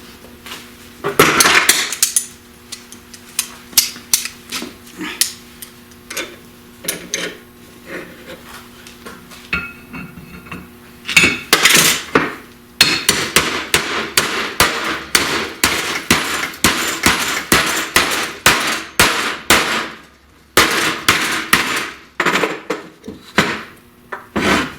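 A ring gear is hammered onto a British car flywheel with sharp, loud metallic blows that come in irregular runs, growing into fast, dense strikes with brief pauses between them.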